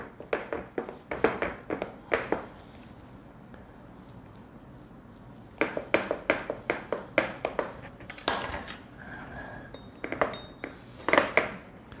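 A knife and server cut and lift a slice from a homemade buttermilk pie, giving bursts of sharp clinks and scrapes of metal on a pie dish in two clusters with a quiet pause between, near and fairly crisp, no talking.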